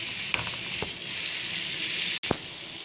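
Shredded cabbage sizzles in a pan for cabbage curry, a steady close frying hiss with a few soft stirring clicks and a brief break near the end.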